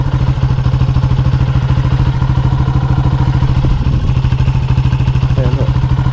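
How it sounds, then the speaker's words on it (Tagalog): A motorcycle engine labours on a very steep, slippery road, a loud close rapid chugging that holds steady and strained throughout, with no clear speech. "Hindi kaya ng motor."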